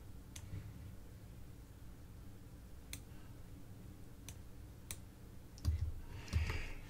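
A handful of isolated computer mouse clicks and key presses come while working in roof design software, faint and sharp with long quiet gaps, including a quick double click near the end.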